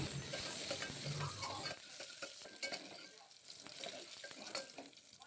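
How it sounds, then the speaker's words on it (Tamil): Garlic cloves, green chillies and small shallots sauté in oil for a mango sambar, a soft sizzle under repeated stirring scrapes, louder at first and then quieter and sparser. "அதில் பத்து பல் பூண்டு ஆட் பண்ணிக்கலாம் கூடவே ரெண்டு பச்சை மிளகாய் பத்து சின்ன வெங்காயம் சேர்த்து நல்லா வதக்கிக்கலாம்"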